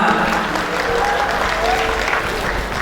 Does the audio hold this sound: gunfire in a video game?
no